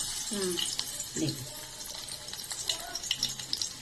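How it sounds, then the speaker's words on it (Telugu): Garlic is dropped into hot oil for masala pappu and sizzles with soft crackles and spatters, accompanied by a few clinks of a utensil, while someone talks over it. "కొంచెం ఇక ఎల్లుల్లిపాయలు వేస్తున్నానమ్మా ముందు"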